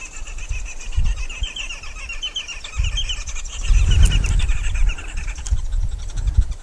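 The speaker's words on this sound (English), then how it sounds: "You'll be hearing these remarkable bird calls here, everyone." Green woodhoopoe calls on a live safari drive, a rapid series of chattering, cackling notes repeated in bursts over low vehicle engine rumble, with a brief louder thump partway through.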